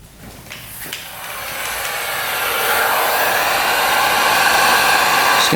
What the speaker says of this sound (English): Just gonna heat up these rubbers, make them a little bit softer.